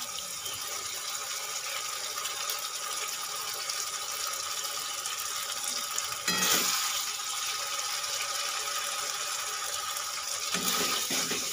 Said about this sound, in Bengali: এবার আমি দিয়ে দেব